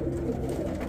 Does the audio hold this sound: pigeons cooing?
yes